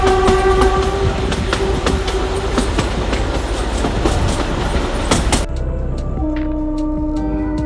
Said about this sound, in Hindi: और मैं फिर से ट्रेन पे वापस से सवार होकर निकल पड़ता हूँ आगे की यात्रा पर।